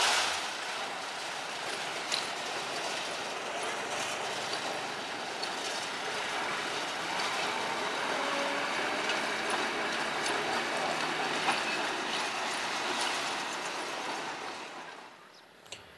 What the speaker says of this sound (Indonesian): lokomotif nomor 9 akan melewati perlintasan di daerah Rejo Agung